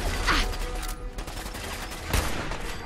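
A gunshot headshot in Fallout 4: two sharp shots about two seconds apart rise out of a busy, noisy game background with no talk.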